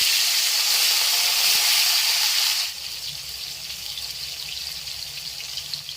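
Chicken frying in a pan with whole spices, a loud bright sizzle that drops suddenly to a quieter steady hiss partway through, with no talking.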